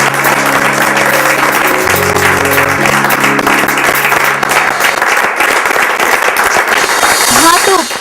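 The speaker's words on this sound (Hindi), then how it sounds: "डॉक्टर भगत और रेवती जी के लिए जोरदार तालियां" Loud applause from a studio audience on a Hindi talk programme, honouring two guests, Dr. Bhagat and Revati; dense clapping runs throughout alongside steady music, with a brief rising tone near the end.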